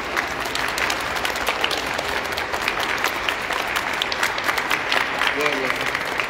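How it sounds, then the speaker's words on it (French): A church congregation applauds steadily and loudly throughout a first communion and profession of faith Mass at Saint Martin church, with dense clapping filling the nave and scattered voices mixed in. "Applaudissez pour vous."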